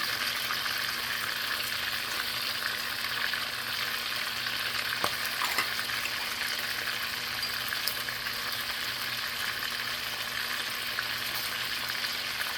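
Seasoned chicken pieces, flipped and cooking for chicken cacciatore, sizzle steadily in a pan with a dense, even crackle that holds at moderate level throughout, without any voices.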